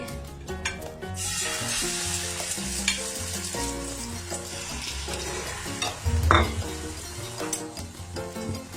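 Beaten eggs frying in hot oil for an egg pizza, a steady loud sizzle that starts abruptly about a second in and holds throughout, with scrapes and clinks of a utensil against the pan and soft music underneath.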